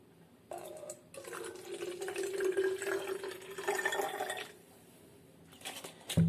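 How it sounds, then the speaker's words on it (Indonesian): A 5 ml water sample poured into a test tube during a nitrate lab test, a close splashing trickle lasting several seconds before tapering off, with no voices. "Saya akan langsung tuangkan saja kepada tabung reaksi ini."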